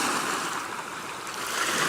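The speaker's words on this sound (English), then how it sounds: "hear the loud waves crashing on the shore" Loud Atlantic Ocean waves crashing on the shore, a steady broad wash of surf with no distinct breaks, fairly loud and continuous without any voices.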